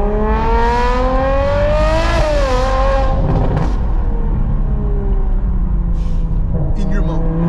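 Extremely loud car engine revving hard in Dubai, rising harmonic roar climbing then sweeping down, close and continuous, with people talking over it and excited voices near the end.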